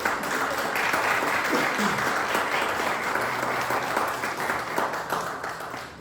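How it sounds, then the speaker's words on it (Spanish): A church congregation at a Thursday Bible study gives a loud, sustained round of applause, dense steady clapping filling the room for several seconds with faint voices mixed underneath. "Denle un fuerte aplauso al Señor."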